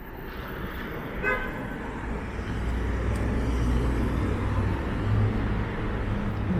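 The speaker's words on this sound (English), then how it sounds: "A lot of traffic." City street traffic in Toronto hums and rumbles steadily, with a short horn toot early on and passing vehicles rising toward the end, no voices heard.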